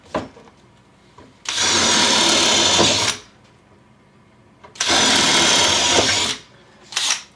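A Festool CXS cordless drill driver bores through material in two long, loud whining bursts, with a short third burst at the end and quiet gaps between.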